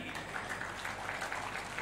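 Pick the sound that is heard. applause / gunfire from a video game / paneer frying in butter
applause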